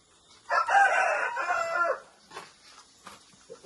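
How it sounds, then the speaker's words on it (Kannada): A native country rooster in a home courtyard in Kadaba crows loudly and close for about a second and a half, followed by quieter scattered clucks from the other chickens. "ನೋಡಿ, ಇದೆಲ್ಲ ಕೋಳಿ. ಇದು ಪಕ್ಕಾ ನಾಟಿ ಕೋಳಿ, ಇವೆಲ್ಲ ದೊಡ್ಡದು."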